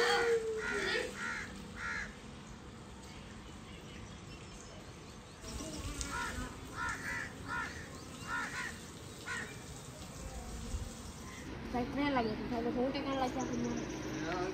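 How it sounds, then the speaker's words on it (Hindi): Crows squabbling on a rooftop shade, with repeated harsh caws coming in bursts at moderate distance, mixed with people talking over steady outdoor background noise. "ये ऊपर बैठे हैं कौवे ये साए के ऊपर तो ये झगड़ रहे हैं"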